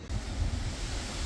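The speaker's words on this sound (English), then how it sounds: "So naturally, it's raining and windy the day I want to test this." Wind and rain outdoors, a steady broad roar with heavy low rumble of wind buffeting the microphone, continuous and close throughout.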